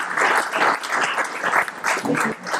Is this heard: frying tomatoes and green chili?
no